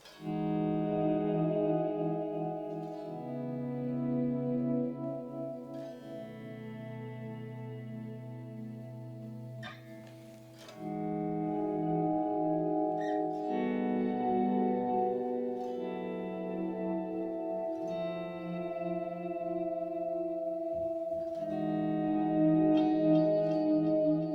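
An electric guitar plays through a Boss DD-200 digital delay pedal, with sustained chords and notes trailing into echoing, swelling repeats and reverb-like wash, broken by a brief pause before the playing resumes.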